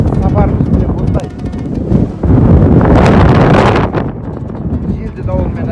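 Strong storm wind buffets the microphone during a bicycle tour across Mangystau, a loud, rough roar that surges and swells steadily throughout, with gusts peaking midway.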